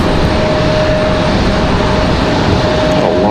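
Boeing 777 at Raleigh-Durham airport, a loud continuous jet roar with a faint steady whine running through it, holding close and even for the whole stretch, no talk.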